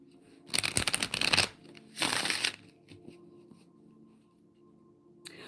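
Tarot cards are shuffled in two brisk bursts of riffling and sliding, close and loud, followed by quieter handling and a faint tap.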